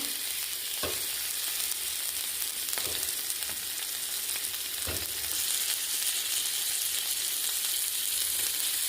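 Chicken pieces and potatoes frying in a pan, a steady loud hiss and sizzle with occasional stirring scrapes, close up and continuous with no talk.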